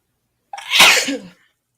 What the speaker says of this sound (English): Sneezing over here.